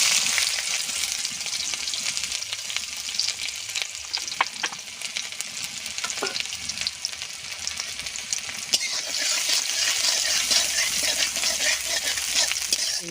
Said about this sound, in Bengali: কড়াতে দিয়ে দেবো সরষের তেল। তেলে দেব কাঁচা লঙ্কা কুচি,